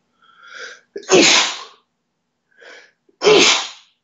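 Two loud sneezes a couple of seconds apart, each opening with a short inhaled build-up and ending in an explosive burst.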